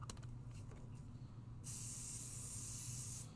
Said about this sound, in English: We're going to hit it with a little bit of pixie spray.